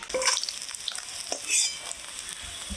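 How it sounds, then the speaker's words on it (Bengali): Small tangra fish frying crisp in mustard oil in a home kitchen, a steady close sizzle with a few scraping stirs, no voices. "মাছগুলো বেশ কড়া করি ভেজে নামিয়ে নিচ্ছি"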